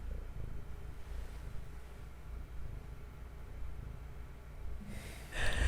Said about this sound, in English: This cat is annoying, purring right in front of me.